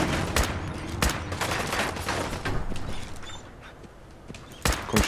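Rapid bursts of Fallout 4 video game gunfire, dense and loud at first, thinning out, then a final sharp shot near the end.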